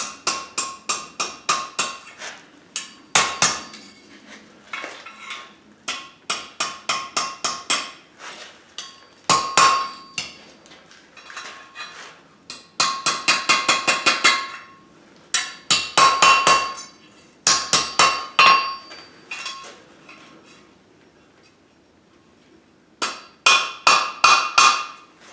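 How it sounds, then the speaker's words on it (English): Hot steel is forged into a wreath hook on the horn of an anvil: a hammer rings out with repeated sharp metallic strikes in quick clusters and short pauses, loud and close, with no talking. "I just want to work it around the horn of the anvil."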